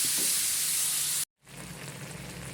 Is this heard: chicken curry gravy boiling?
yes